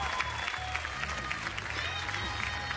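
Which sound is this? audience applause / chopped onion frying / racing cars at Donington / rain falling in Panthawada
audience applause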